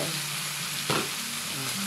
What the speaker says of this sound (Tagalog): Yung sibuyas sa kabawang, so ilagay na po natin ang pugita. Yung hinihiwa-hiwang octopus po.